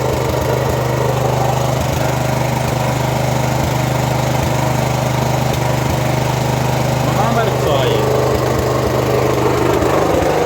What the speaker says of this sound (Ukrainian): От вам і кіловатна станція совєтська ця. Робить.